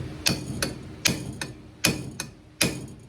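Hammer tapping on the rusted center stud of a 1970 Challenger, six sharp metallic knocks at uneven intervals, close and fairly quiet with no talking.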